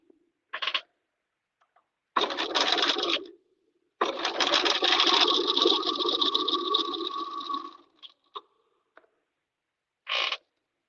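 Sewing machine stitching a seam on a crewneck sweater, running in a short burst, then a longer steady whirring stretch of several seconds, with brief isolated stitches and a final quick burst, close and clear.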